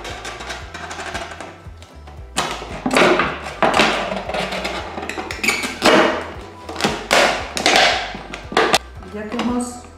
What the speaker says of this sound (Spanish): con la ayuda de nuestra cuchilla o cúter, lo que vamos a hacer, ya que hemos establecido las marcas, lo introducimos y empezamos a cortar.